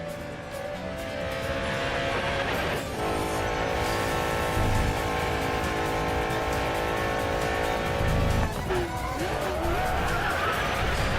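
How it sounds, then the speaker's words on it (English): Koenigsegg engine pulling hard in fifth gear in the racing video game Racing Master, steady harmonic drone with tire skids and a voice talking over it, loud throughout. "this Koenigsegg though! It's still pulling at gear 5?"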